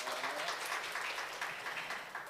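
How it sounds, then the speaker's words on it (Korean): Applause from an audience at a Korean international environmental forum session, a steady dense wash of clapping hands that holds evenly throughout without a break. "큰 박수 부탁드립니다"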